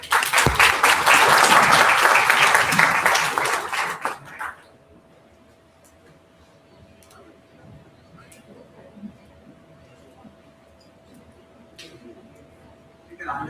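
Loud audience applause fills a conference hall for about four seconds, then drops to quiet room tone with faint murmurs and a steady hum.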